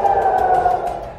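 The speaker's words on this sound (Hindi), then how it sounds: "पूरा जेरूसलम हवाई हमले के सायरनों से गूंज रहा है।" A steady, wailing air raid siren tone sounds loud and sustained over Jerusalem, then fades slightly toward the end.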